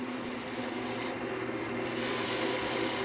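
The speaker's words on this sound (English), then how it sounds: "sand that 220 and 320." Steady rasping rub of sandpaper on a turned locust wood lidded pot, worked with 220 and then 320 grit, a continuous close scratchy hiss with a brief shift in texture partway through.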